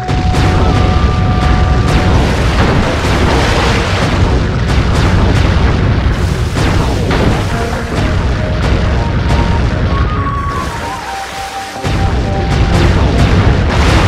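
Ship cannons in Sly 3 fire in heavy, booming blasts, loud and close, one after another over a dense wash of battle noise, with a brief lull near the end before the roar resumes.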